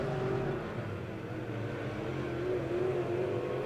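Stock race cars run side by side on the Monett Motor Speedway oval during weekly racing, a steady droning engine roar heard from a distance, even and unbroken with no talk.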